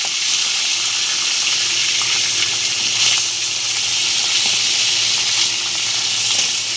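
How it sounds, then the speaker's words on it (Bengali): A hilsa fish head fries in hot oil in a kadai, a loud, steady hissing sizzle with little variation throughout. "তেল গরম হয়ে গেছে, এবার ইলিশ মাছের মাথাটা ছেড়ে দিলাম।"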